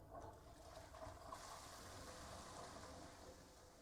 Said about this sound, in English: Did I flush?